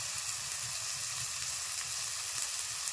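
Ginger paste frying in oil in a pan for tengra fish curry, an even close crackling sizzle that holds steady without pause, no voices.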